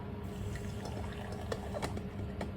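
Water pours quietly into a container while making coffee, a soft continuous trickle with a few faint splashes.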